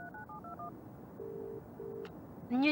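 Telephone keypad tones beep in a quick series of dual notes, then two longer steady ringback tones sound, ending in a brief click and a rising burst, all from a phone call placed in the game Broken Sword 3: The Sleeping Dragon.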